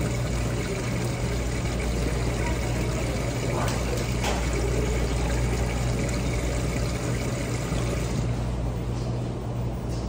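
Water pours into a container, a constant rushing splash under a steady low hum that keeps going at an even level throughout.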